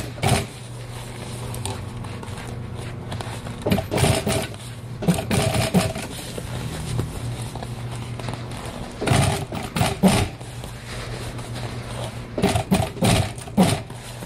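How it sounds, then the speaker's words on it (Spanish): An upholstery sewing machine stitches a truck seat cover, whirring steadily with a low hum. Bursts of rapid rhythmic clattering stop and start throughout, close by. "y así lo va a coser a todo alrededor. Despacio."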